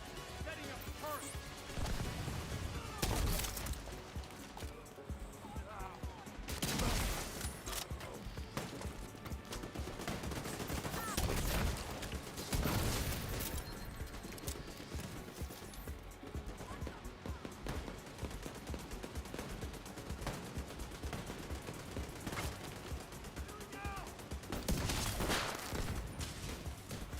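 A deployed turret in The Division 2 fires in bursts of rapid automatic gunfire, several loud volleys spread across the stretch amid other battle noise and voices.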